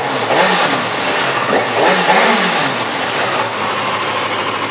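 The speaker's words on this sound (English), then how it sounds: "Rev up the stock exhaust here a little bit for you." A 2009 Kawasaki ZX6R Ninja motorcycle engine with stock exhaust revs in a few steady, moderate bursts, a fairly tame exhaust note rising and falling close by.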